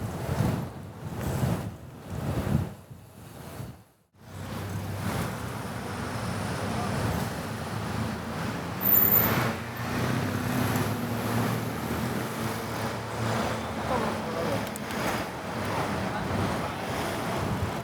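Designed film traffic ambience: cars pass in rhythmic whooshes like puffs of air during the first few seconds, then settle into a steady, wind-like roadway rumble.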